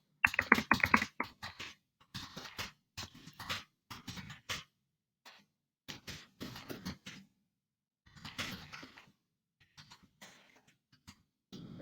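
Quiet typing on a computer keyboard in irregular bursts of rapid key clicks separated by short pauses, close to the microphone, with no talking.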